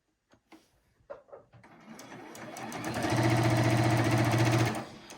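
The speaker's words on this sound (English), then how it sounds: "We're just going to move to the next one, doing the same thing, the same square, sewing just like this." A sewing machine stitches quilt squares for a table topper, starting with a few scattered clicks and handling taps, then building into a steady, loud mechanical hum with a rapid rhythmic chatter before winding down.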